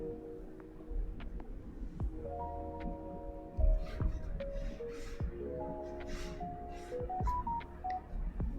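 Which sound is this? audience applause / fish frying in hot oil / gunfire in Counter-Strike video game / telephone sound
telephone sound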